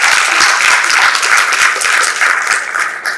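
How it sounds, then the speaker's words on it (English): Loud, dense applause from an audience at a mindfulness and coaching talk, steady and close, continuing without a break for a few seconds. "with a great round of applause"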